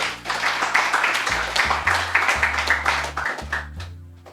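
A crowd at a French-language debate event bursts into sustained, loud applause with rapid rhythmic clapping, while a low music bed pulses underneath and the clapping fades near the end.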